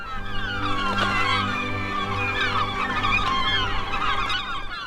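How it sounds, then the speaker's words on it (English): Gulls scream nonstop in the sky outside a boathouse at a lakeshore lighthouse, a dense, loud flock calling with overlapping cries throughout. "The payoff for the screaming gulls waiting in the sky outside the boathouse is a feast of scraps"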